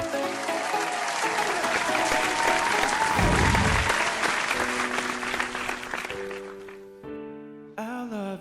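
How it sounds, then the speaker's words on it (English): A loud, sustained burst of audience applause at a televised singing competition, with dense clapping and cheering over music that fades toward the end as piano and singing begin. "please give a huge round of applause to Philip John"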